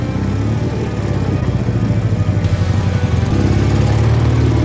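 A Dnipro motorcycle engine running just after being started: a loud, close, continuous rumbling idle with a throbbing pulse that grows slightly stronger toward the end.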